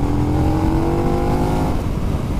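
A 2020 KTM Super Duke R motorcycle pulling hard in fourth gear to overtake on the road, its engine a loud, close, steady growl with a rising drone that eases slightly toward the end.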